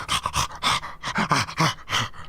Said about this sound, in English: What are you doing, you crazy dog?